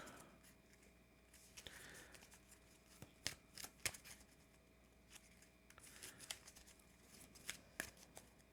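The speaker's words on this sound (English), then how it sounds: "Shuffle these up real quick" A deck of cards being shuffled for a tabletop game session of Earthborne Rangers, with soft riffling and several sharp, crisp bursts of card snaps in irregular clusters, close and fairly quiet with no talking.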